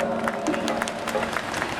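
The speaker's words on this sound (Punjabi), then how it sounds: "ਤਾੜੀ ਮਾਰ ਦਿਓ ਜ਼ੋਰਦਾਰ ਸਾਰੀ" Crowd clapping at an annual village fair at a dargah shrine in Punjab, a short burst of steady applause mixed with crowd murmur and a faint sustained tone underneath.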